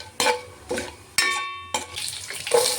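Cumin seeds tossed into hot oil for prawn biryani give several loud bursts of sizzle and clatter in quick succession, with a ringing metallic pan note between them and a steady hiss that builds toward the end.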